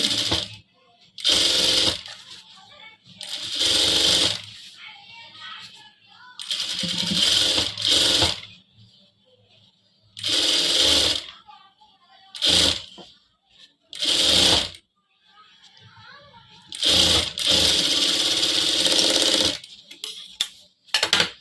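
A sewing machine stitches a bridal pattu saree blouse back neck design, running in loud rapid rattling bursts of a second or two, separated by quiet pauses.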